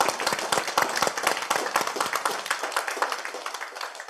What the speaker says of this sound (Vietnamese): xin chư vị cho một tràng vỗ tay thật lớn.